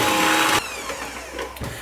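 An electric mixer whirring loudly as butter and sugar are creamed in a bowl, a steady high motor drone that cuts off after half a second, followed by quieter clinks and bumps.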